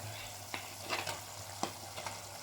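Boiled, peeled potatoes tipped into a pan and stirred for poori potato masala, giving a few soft, quiet scraping knocks spaced apart over a faint background.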